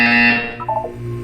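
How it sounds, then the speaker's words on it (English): A loud electronic buzzer from the video game Portal 2 sounds first, then fades into a few short descending tones. The whole clip is brief and close. "You will hear a buzzer."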